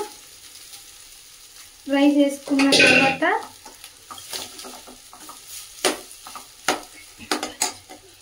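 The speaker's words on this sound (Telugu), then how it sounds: "అల్లం వేసుకున్న తర్వాత అయితే రైస్ వేసుకుంటున్నాను" Rice stir-fried with ginger in a pan for egg fried rice: soft spatula scrapes, then a loud burst of stirring and sizzle in the middle, followed by scattered clinks and scrapes.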